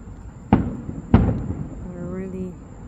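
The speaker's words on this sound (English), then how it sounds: "Fireworks again." Fireworks over a ballpark stadium at night, two sharp loud bangs a little over half a second apart echoing in the open air, followed by people talking quietly.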